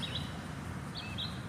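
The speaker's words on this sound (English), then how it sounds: "Can you hear those birds?" Outdoors, a few short, high bird chirps ring out at moderate distance, two or three brief calls over a steady low rumble of background noise.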